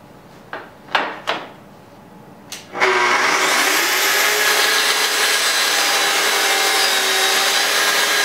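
A few light knocks and taps come first, then a saw whirs up and cuts steadily and loudly through clamped plywood pieces, a sustained bright roar to the end.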